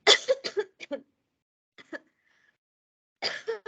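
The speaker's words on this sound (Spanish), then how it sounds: "En lo más importante me sale la tos." A burst of several sharp coughs close to the mic during a pharmacology lecture, then a pause, a couple more faint coughs, and another quick cluster of coughing.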